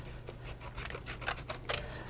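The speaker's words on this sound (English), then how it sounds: "we can go ahead and cut that shape out. Okay. As carefully with our safety scissors." Safety scissors snipping a paper shape, with a run of short crisp cuts at an uneven pace and a few sharper snips near the end, close and fairly quiet over a low steady hum.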